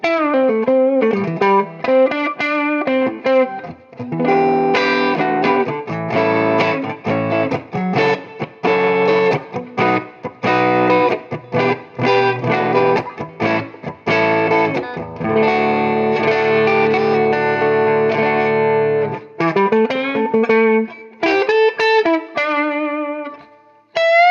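Distorted electric guitar on the neck pickup of a semi-hollow ES-335-type guitar plays a lead with a warm, rounded tone, sustained notes and quick runs, loud and alone with some chorus-like shimmer.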